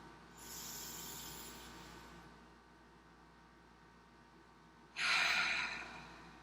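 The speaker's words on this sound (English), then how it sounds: "Feel your belly rise and fall with those breaths" Slow, deep meditation breaths heard up close: a long airy inhale or exhale fades out, then after a quiet pause a sharper, louder breath follows, with no talking.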